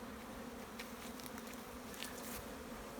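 Honey bees drone in a steady, close, faint buzz at a water source near the hives of an apiary, with a continuous hum and occasional nearer wingbeats passing by.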